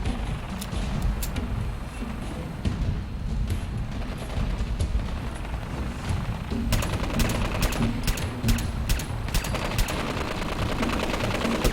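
Rapid automatic gunfire in the video game Fallout 4, dense bursts of loud shots rattling almost continuously over a rumbling low background and growing heavier in the second half.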